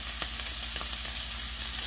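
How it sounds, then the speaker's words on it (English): Loud, close sizzling of a walleye fillet laid flesh-down in a hot pan, a constant crackling hiss with a few sharper pops. "lay the flesh right on there and hear that good sizzle go on"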